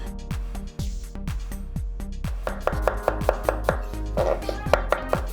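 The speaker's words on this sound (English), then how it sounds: "these are Brussels sprouts, right? That we're just gonna pop in half" A knife chops through Brussels sprouts on a cutting board in a steady run of close, crisp thuds, speeding into a fairly even rhythm of about a dozen firm cuts.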